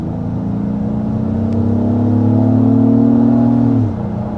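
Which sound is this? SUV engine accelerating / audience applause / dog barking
SUV engine accelerating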